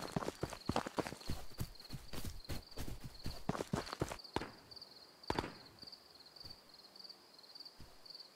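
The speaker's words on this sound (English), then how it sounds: "They changed the footsteps sounds for sure on grass." Footsteps crunch across grass in the video game Ghosts of Tabor, a quick series of soft, irregular steps that trail off into sparse single steps, with a faint high whine underneath and no talking.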